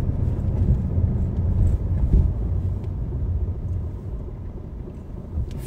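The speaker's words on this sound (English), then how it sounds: "I'm easing off the gas. I will let my car roll. And then I stop nicely." A car eases off the gas and rolls to a stop at a traffic light, a low engine and road rumble that fades gradually as the car slows, with no voices.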